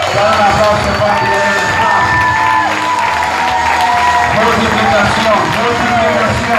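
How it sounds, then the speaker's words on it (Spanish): A church congregation applauds and cheers during a pastor's sermon, lively mixed clapping and voices under loud music or shouting, busy and continuous throughout. "Dale un aplauso"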